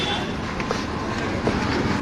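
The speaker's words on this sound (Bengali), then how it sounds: "এখন হচ্ছে ট্রেনটা এবারে ছাড়বে গেট বন্ধ করে দেবে" A Kolkata metro train rumbles steadily with a broad, continuous roar and faint rhythmic clatter, close and fairly loud.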